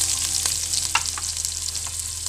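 Onions fry in hot oil for a masala chicken gravy over a wood-fired stove, with a loud, steady hiss and sizzle broken by a few faint clicks from stirring.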